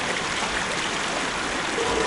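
Water flows steadily in a Harry Potter and the Prisoner of Azkaban game scene, a loud continuous rushing stream that is close and unbroken, with no voices.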